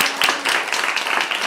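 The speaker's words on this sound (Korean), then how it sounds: "우리에게 열매를 주신 그 하나님께 영광의 박수를 쳐드립시다. 박수 힘껏" A church congregation claps in praise during a Sunday sermon, a brief burst of brisk, uneven hand claps from many people close by.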